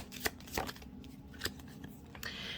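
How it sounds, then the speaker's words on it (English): A deck of tarot cards being shuffled, a few crisp riffling bursts and soft slaps spaced out over a quiet background, close and clear. "Let's get another shuffle from this deck."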